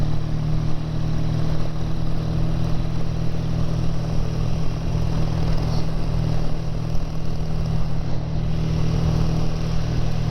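A BSA A10 650 twin motorcycle engine runs steadily during a relaxed ride. It gives a continuous, loud low drone with a strong low-pitched hum, and no one speaks.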